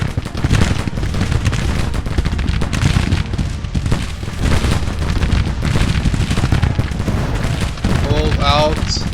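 Soldiers firing volleys of gunfire in the Grand Tactician strategy game, dense crackling musket shots and booming reports layered into a loud, continuous battle roar.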